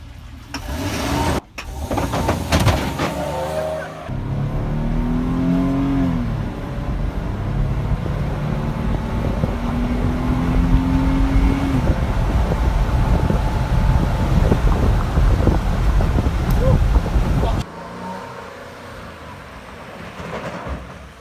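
A Chevy Silverado pickup truck accelerates hard from 0 to 60, its engine rising in pitch with a loud, sustained roar and rushing wind noise, then abruptly dropping away, with no talking.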